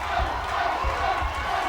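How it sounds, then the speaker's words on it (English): Crowd at a boxing match cheering and shouting in a continuous roar, with rhythmic swells of noise and a voice talking over it. "The crowd is getting excited."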